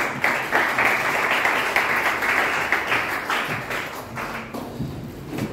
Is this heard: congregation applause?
yes